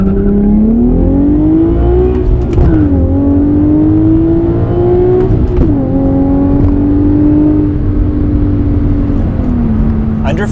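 An Infiniti G37 sedan fitted with a Stillen cat-back exhaust pulls hard at full throttle, a loud, close droning engine note climbing through the gears with short dips at each shift.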